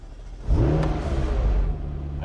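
A McLaren 720S Spider's engine starts up with a rising rev, then settles into a steady, fairly loud idle that drops off slightly near the end.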